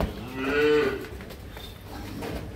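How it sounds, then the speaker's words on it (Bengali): A dairy cow on a farm gives one loud, drawn-out moo close by, with rain and farm ambience before and after it and no talking. "এই যে দেখেন গাভী"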